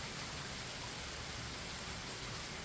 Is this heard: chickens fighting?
no